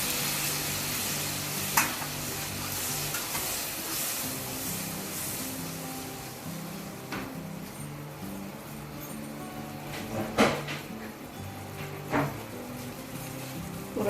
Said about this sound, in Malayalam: വെള്ളം, പുളിയുള്ള വെള്ളം ഇങ്ങോട്ട് ഒഴിക്കുക